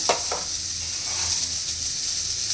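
Finely chopped green chilli hits hot oil in a pan and sizzles steadily and close, a continuous bright frying hiss with a couple of soft stirring knocks at the start.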